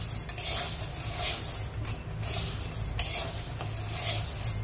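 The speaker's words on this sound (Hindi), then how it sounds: "इसको हम इसी में चला लेंगे।" Fried ingredients stirred into sago kheer in a kadhai, a close, steady scraping of a spoon against the metal pan with soft wet sloshing and a faint sizzle, repeated stirring strokes without talk.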